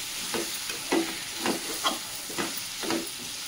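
A South Indian brinjal chutney mixture frying in a pan is stirred, about six scraping strokes in an even rhythm over a soft continuous sizzle.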